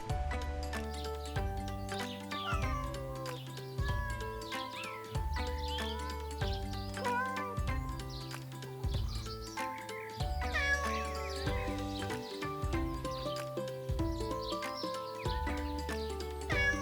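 Domestic cats meowing over steady rhythmic background music, the mews brief and recurring through the stretch at moderate level.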